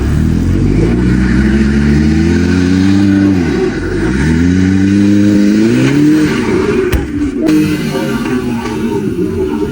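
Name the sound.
sports car engine revving uphill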